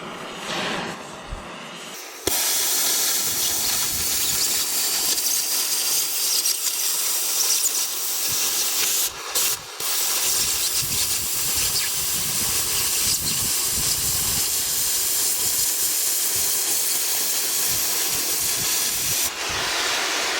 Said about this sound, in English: See if I can't use the torch a little better today.